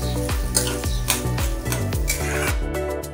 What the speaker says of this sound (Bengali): পেঁয়াজটাকে আমি আগে ভেজে নেব।